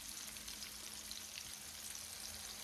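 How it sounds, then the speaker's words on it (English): Chicken wings for buffalo hot wings fry in hot oil, giving a steady, faint sizzle with a light crackle throughout. "I'm going to let these fry a little bit."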